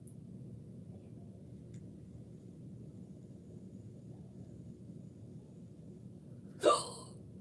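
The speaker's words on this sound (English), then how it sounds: "These damn hiccups." A single sharp hiccup from a person sitting indoors, sudden and close, near the end of a quiet stretch of low room rumble.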